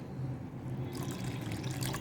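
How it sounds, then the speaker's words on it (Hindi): Water poured from a glass into cooking masala for a gobhi kofta curry gravy, a soft liquid splash and trickle, faint and steady, growing brighter partway through. "अब इसके अंदर मैं पानी ऐड करूंगी।"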